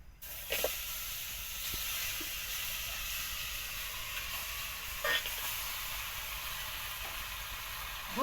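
Crispy fried fish hisses and sizzles steadily in hot oil, a continuous bright frying hiss with a few soft clinks and taps rising over it.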